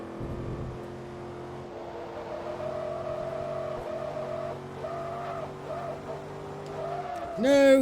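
A race car slides in Forza Motorsport 2 during an Amateur Cup Big Block Shootout, its engine holding a steady drone while a rising tire squeal and rev flare at the end, with a voice talking over it.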